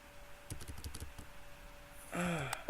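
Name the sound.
computer keyboard key presses while playing The Stanley Parable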